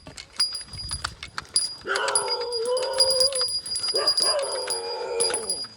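A female dog on a village road barks and whines in drawn-out, wavering cries, with sharp clicks and a person's voice nearby.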